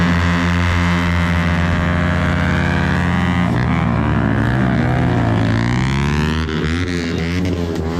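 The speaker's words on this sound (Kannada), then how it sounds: "ಬರ್ನೌಟು" A modified car does a burnout at a college auto expo at MIT Kundapura, its engine holding a loud, sustained high-revving roar that wavers and surges in pitch throughout, close by and with no speech.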